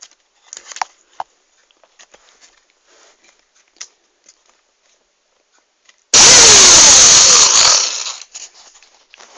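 A homemade engine built from a drill roars to life as a loud, sustained high-pitched whine for about two seconds, then cuts off, following quieter clicks and handling noises.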